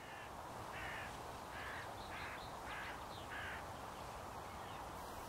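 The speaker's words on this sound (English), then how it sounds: "There's a crow watching me pack up in the distant hedgerow and it doesn't sound happy." A crow caws from a distant hedgerow in countryside, six harsh calls in a steady series over the first few seconds, faint and far off above a constant low outdoor rumble.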